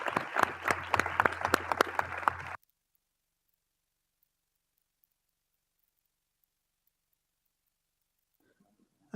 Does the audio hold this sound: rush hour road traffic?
no